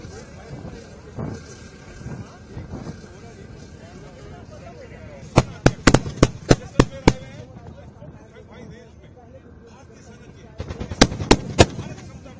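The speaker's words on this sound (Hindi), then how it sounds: "इस वक्त आप देख रहे हैं हमारे ठीक पीछे अर्जुन टैंक को यहाँ देखिए किस तरह से दरअसल युद्ध के मैदान में इस वक्त अर्जुन टैंक" An Arjun tank fires during an integrated firepower display at Pokhran. Two clusters of sharp, booming reports, half a dozen in quick succession and then a shorter burst, sound out in the open at middle distance over a voice and a low background rumble.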